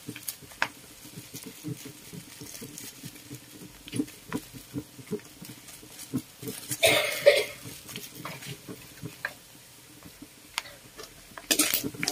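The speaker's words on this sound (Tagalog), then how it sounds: "Haluin para ma-mix." Pork fat and black pepper get stirred in a cooking pot for an Ilocano dish, with scattered scraping, tapping and clinking of a utensil against the metal at an irregular rhythm, plus soft sizzling hiss in between.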